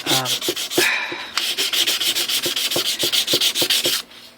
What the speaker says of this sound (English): So back on with the sandpaper now, just to buff it up.